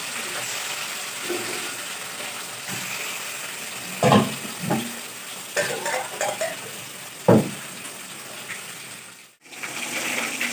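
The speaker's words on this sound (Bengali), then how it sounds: "চলো মাছ ভাজা হয়ে গেছে, তুলে নেবো" Fish fries in oil in a home kitchen, a soft steady sizzle broken by a few sharp clatters and scraping of a utensil in the pan, fairly quiet and without speech.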